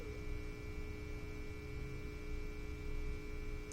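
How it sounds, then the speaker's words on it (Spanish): Steady electrical hum from a circa-1958 Grundig 97 WEI tube radio under restoration, a faint, constant drone with a low rumbling undertone and no voices. "Y ahí tenemos el ruido de la radio típica."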